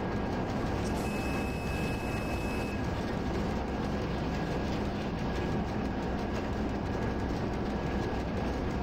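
A simulated train runs on the Czech ČD line 292 between Hanušovice and Branná in the RailWorks game, giving a steady, dense rolling rumble that continues unbroken throughout with no talk.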